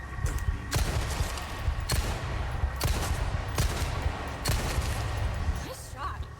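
Gunfire in the video game Resident Evil 4 Remake: several sharp shots at roughly one-second intervals over a dense, loud game soundscape.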